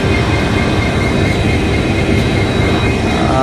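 A crowded passenger train running from Kamakhya Junction to Tinsukia rumbles along with a steady, loud, continuous roar of wheels and carriage noise, no voices heard.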